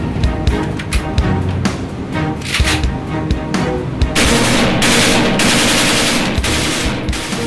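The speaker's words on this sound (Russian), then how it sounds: "Серия контрольных выстрелов." A frozen assault rifle test-fires inside a climate chamber simulating harsh winter, a long run of rapid, loud automatic bursts that turns denser and more continuous in the second half, with no speech.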